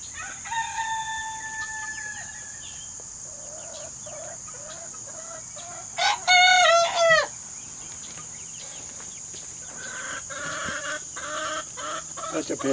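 A rooster lets out one short, bright crow mid-way, surrounded by softer clucks and chirps from a flock of chickens and chicks nearby, over a steady high insect-like whine.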